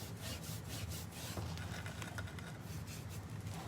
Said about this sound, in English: when I'm brushing, I'm just laying my brush and pushing